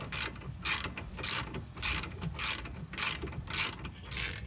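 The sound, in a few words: wrench tightening brake bolt on Honda CRV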